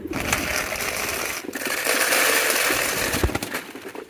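Pigeons coo softly over a steady, noisy background hiss, with no talking.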